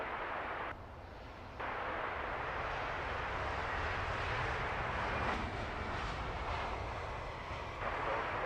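A Scandinavian airliner at London Heathrow Airport fills the air with a broad, steady jet roar, loud and continuous throughout with slight swells, no voices over it.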